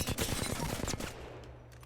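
Rapid automatic gunfire from Apex Legends during recoil practice, a dense close burst of shots lasting about a second before trailing off.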